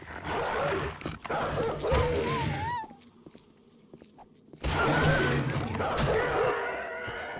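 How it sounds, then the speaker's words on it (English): A dog barks in the 7 Days to Die survival game, a few sharp calls among game noise and footsteps, a quiet gap in the middle, then the sound returns. "Dog."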